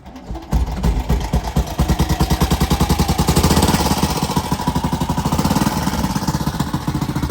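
A 1959 BMW Isetta 300's single-cylinder engine runs close and loud, firing in a steady, rapid thumping rhythm for the whole stretch after a brief quieter opening, with no talk over it.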